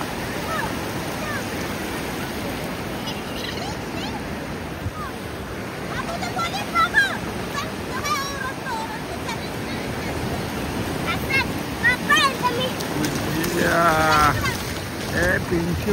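Sea waves at Gokarna make a continuous broad rushing wash that swells slightly toward the end, with scattered honk-like calls and faint voices mixed in.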